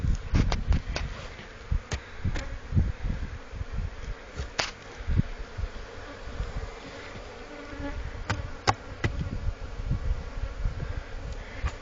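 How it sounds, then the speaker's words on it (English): Honey bees buzz steadily around an opened hive during hive work, a dense close swarm drone broken by scattered knocks and taps from handling the frames. "This really pisses off the bees"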